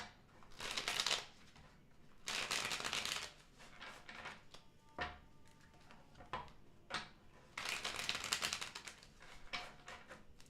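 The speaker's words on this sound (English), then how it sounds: "2 more shuffles." A deck of tarot cards is shuffled by hand, with several crisp riffling bursts separated by brief pauses and softer handling noises, close and fairly quiet, with no speech.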